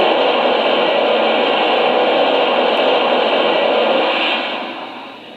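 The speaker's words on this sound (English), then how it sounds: "Here is the blowdown sound." Blowdown sound from a Lionel Canadian National ten-wheeler model steam locomotive: a loud, continuous broadband hiss of escaping steam held steady for several seconds, then tapering off at the end, close up and alone.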